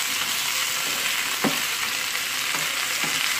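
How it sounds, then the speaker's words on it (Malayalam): Sliced ivy gourd and carrot frying in oil, a steady, dense sizzle heard up close, with a few soft knocks as the pieces are stirred. "കോവയ്ക്ക ഇട്ടിട്ട് നന്നായിട്ട് ഈ എണ്ണയിലൊന്ന് വാർത്തി എടുക്കണം"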